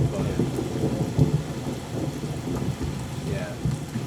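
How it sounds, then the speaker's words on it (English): Steady rain hiss with low rolling thunder rumbles, used as layered sound effects in a studio-produced thunderstorm song, continuous and fairly full throughout. "It's mostly rain and thunder you can hear."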